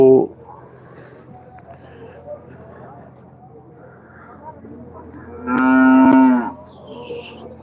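A dairy cow lets out one long, loud moo near the end at a PDFA livestock show in Haryana where HF and Jersey cows are exhibited, over a low murmur of crowd noise and a brief clatter at the start.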